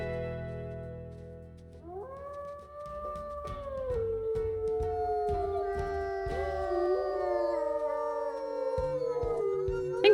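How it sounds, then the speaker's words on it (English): Several wolves howl together in the WolfQuest video game, long sliding tones that start one after another and overlap into a layered chorus, fairly loud and close, with no talking. "I think Lavender has like the original WolfQuest howl"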